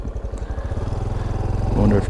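A Honda Trail 125 Hunter Cub motorcycle idling close by on a silty offroad trail, a steady rapid single-cylinder putter with a brief rise near the end.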